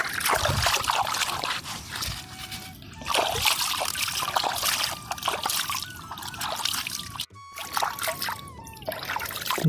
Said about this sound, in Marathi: मला जरा हातपाय धुवायचे होते त्यासाठी मी उतरत आहे.